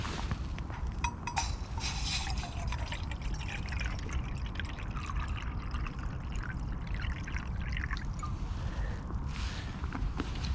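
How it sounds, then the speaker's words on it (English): Water pours and trickles into a small metal cup set up for boiling on a French cooker with hexamine fuel, a soft continuous splashing close by with no talking. "So I've got this little metal cup that I'm just going to use for boiling some water on."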